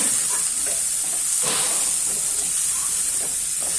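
Salted vegetables fry in a pan with a constant bright, hissing sizzle close to the mic. Faint stirring scrapes are scattered through it and no voices are heard.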